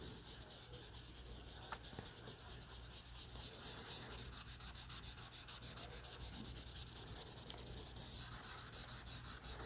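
A graphite pencil shades across paper in a portrait drawing, making a quiet, fast, rhythmic scratching and rubbing that repeats steadily and close up for the whole stretch.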